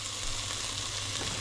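Mackerel and pork frying in olive oil, a steady close sizzle with a constant crackling hiss throughout and no voices.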